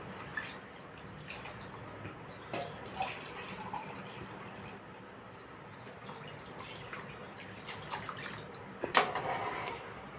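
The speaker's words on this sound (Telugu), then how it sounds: "2 లోటున్నర వాటర్ అనేది యాడ్ చేసేసుకుంటున్నామండి" Water is poured into a pot of masala kushka rice, a soft continuous trickle with scattered faint drips and small splashes, fairly quiet and steady throughout, with no one talking.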